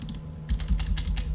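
Computer keyboard keys pressed in a quick cluster of light clicks while duplicating objects in 3D software, close and soft over a low steady hum, no talking.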